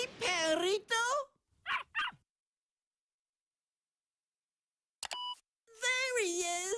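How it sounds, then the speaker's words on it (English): A cartoon puppy yips and barks in short high bursts, with a child-show voice talking and a beep amid long silent gaps. "Dora's got a new puppy."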